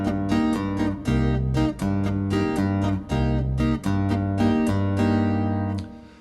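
Chapman Stick played in a steady finger-tapped rhythm, the bass note alternating between root and fifth under repeated chord hits, close and clear with no voices, ringing out at the end.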